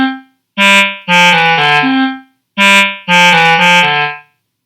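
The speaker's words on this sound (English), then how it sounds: "We can hear a woodwind play it." Woodwind voice in Chrome Music Lab Song Maker playing a simple melody of sustained, reedy notes. The same phrase is heard twice, close and loud with no voices, and a short gap separates the two.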